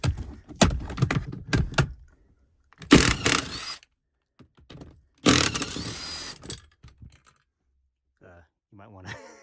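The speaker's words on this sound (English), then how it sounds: "I'm just going to use my impact." Impact wrench removing the second-row captain chair seat bolts in a 2003-2006 Lincoln Navigator, two separate loud rattling bursts of a couple of seconds each, with quieter ratcheting clicks and handling noises between them.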